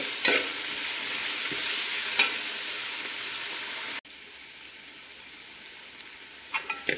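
Tomatoes, onions, green chillies, coconut slices and curry leaves sauté in a pan for chicken curry, a loud steady sizzle with spoon scrapes that drops abruptly quieter midway.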